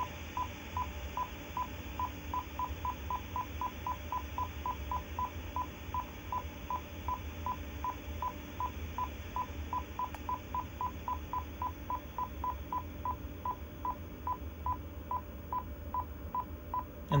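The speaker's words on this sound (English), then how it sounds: "now we're running some tones through it. There's a pulsing tone." A Marconi 2955 radio communication test set plays a steady pulsing tone beeping in a fast, even rhythm over a constant low hiss and hum, continuing without pause.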